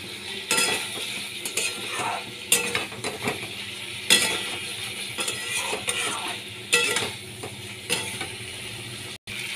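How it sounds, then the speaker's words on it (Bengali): Fish pieces stir-fried in a pan for a Bangladeshi bhola fish curry, giving a steady close sizzle with repeated scraping and clattering stirs of the spatula against the metal, with no talk over it. "মাছগুলোকে দিয়ে আমি আরও কিছুক্ষণ কষিয়ে নেব"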